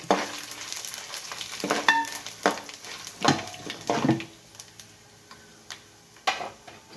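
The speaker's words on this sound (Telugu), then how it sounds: "ఎండుమిర్చి, జీలకర్ర వేసేస్తున్నాను ఇప్పుడు" Dried red chillies and cumin seeds dropped into hot oil for tamarind rice, crackling and sizzling up close with sharp pops and a few clinking stirs over a low frying hiss.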